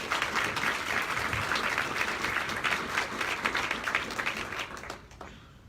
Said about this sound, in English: please give a round of applause for the Dirty Bird and for Clavon's